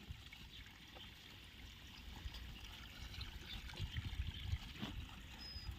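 Water from a running tap trickles and splashes steadily indoors, a soft continuous flow with slight surges, faint and alone without talk.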